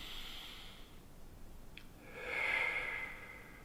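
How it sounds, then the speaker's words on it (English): Soft nasal inhalation during a yoga breathing exercise in bed, a single gentle airy breath swelling near the end, close and quiet with no speech. "Breathing in."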